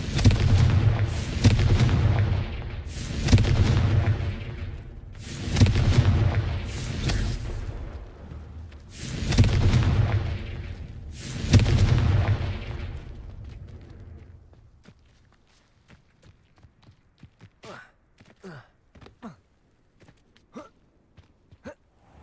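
A run of about five heavy, booming Confringo fire-spell blasts from Hogwarts Legacy, spaced a couple of seconds apart, followed by a quieter stretch of sharp, scattered clicks and small impacts.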